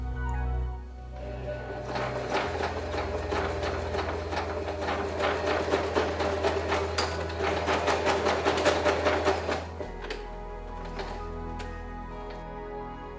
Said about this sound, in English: For this first part I use my regular sewing machine with a ballpoint needle that works the best on scratchy fabrics